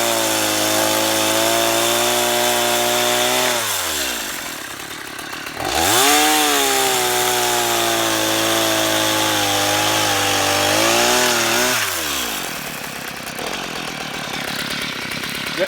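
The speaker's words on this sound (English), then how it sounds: "fire up the saw, Rebel, and cut this log into 16-inch pieces" Steel MS-170 chainsaw cutting a log into 16-inch pieces: a loud, close engine whine with rising and falling pitch, dropping briefly at about 4 s and 12 s between cuts before revving up again.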